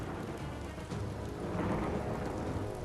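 Rain falls in the video game Biomutant, a thick, steady roar with a low rumble like distant thunder swelling slightly toward the end, with no talk.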